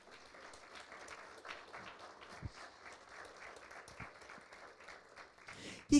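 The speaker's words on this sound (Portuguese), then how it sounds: "Dá uma salva de palmas ao Senhor." A church congregation claps during a Sunday service, a soft, steady patter of many hands at a distance with a louder burst at the end.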